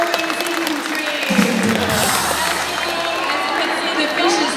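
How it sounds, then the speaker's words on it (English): Audience applause at a California sea lion show at Singapore Zoo's Splash Safari, a steady crowd clapping with some cheering and babble throughout. "Give yourself a round of applause"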